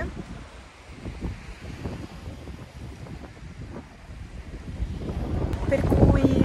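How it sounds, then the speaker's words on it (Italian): Wind gusting on a seafront in the Marche, Italy, a steady broadband rush and microphone buffeting that swells louder toward the end, with no clear speech over it. "C'è anche un po' di vento, quindi spero che non si senta troppo il vento"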